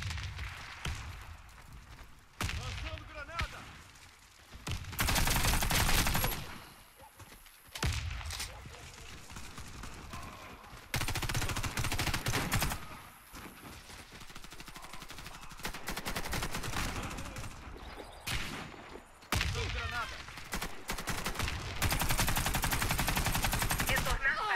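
Bursts of XM8 LMG light machine gun fire in the Warface shooter on the Vault map, long sustained volleys broken by short gaps, loud and close, with other weapon sounds in between.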